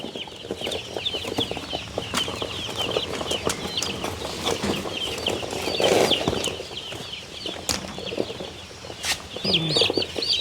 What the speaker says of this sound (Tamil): இந்த கோழி குஞ்சலை இங்கே கொண்டு வந்திருக்கிறோம்